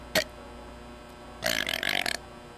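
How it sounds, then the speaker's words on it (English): Two burps, a short sharp one and then a longer, louder rumbling one, from someone playing around in a VR game, with quiet room noise in the gaps. "How loud should I burp?"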